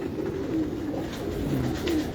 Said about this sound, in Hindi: ये भी अली वाला कबूतर है